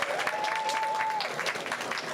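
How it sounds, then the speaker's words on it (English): A graduation audience for the class of 2022 claps continuously for a couple of seconds, a bright even patter of many hands, with a brief whistle-like tone rising above it. "Give yourselves a round of applause"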